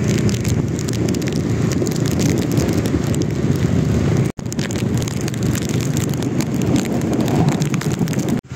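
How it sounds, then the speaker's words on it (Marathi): Evening rain falling outdoors with passing traffic makes a steady, broad wash of noise, with wind buffeting the microphone and a brief cut midway. "संध्याकाळचं पाऊस जोरदार आहे."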